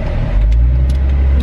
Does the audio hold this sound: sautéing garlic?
no